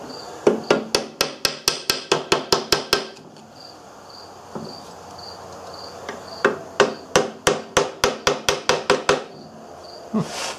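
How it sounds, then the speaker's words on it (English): Sharp, evenly spaced hammer blows from a big hammer strike a Briggs & Stratton 5S engine in two quick runs of about a dozen hits each, close and ringing, with a pause between and a steady insect-like hum behind. "Guess we will use the big hammer, but we will just be very gently"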